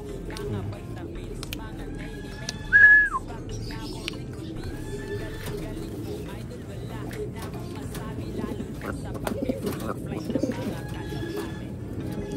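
Pigeons in a pigeon coop give soft, low cooing calls, a few short higher calls stand out against a constant background murmur of birds, and voices are heard in the background.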